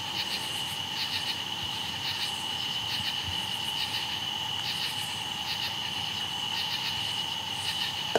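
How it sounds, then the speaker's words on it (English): Night insects and frogs drone outdoors in a dark, boggy countryside, a steady high-pitched chirring chorus with pulsing trills, continuous and even throughout with no voices. "The bugs and the frogs out here just sound like a constant drone."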